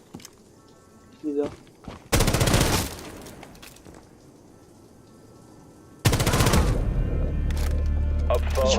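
Bursts of automatic gunfire from a Rainbow Six match: a short volley followed by a longer sustained rattle, then after a pause another loud continuous burst, with a player's voice speaking between the shots.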